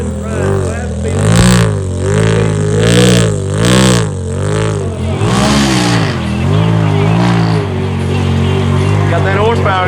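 The engine of a newly built trail vehicle revs hard and rises and falls in waves during a trail challenge run, loud and close, with voices talking over it.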